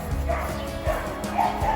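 Several dogs bark and yip in sharp, repeated bursts at mid distance, with some whimpering among the barks.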